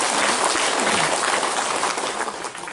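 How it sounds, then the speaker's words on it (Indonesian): A crowd at an outdoor community gathering claps in a burst of applause. The clapping is dense and loud, then thins and fades toward the end. "Tepuk tangan untuk kita sendiri."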